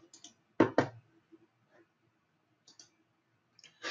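A few light computer mouse clicks sound in a quiet room, one quick double click followed by sparse single taps, close and crisp.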